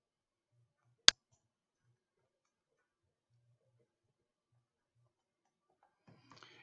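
A single crisp computer mouse click, close and isolated in near silence, followed several seconds later by a faint brief rustle.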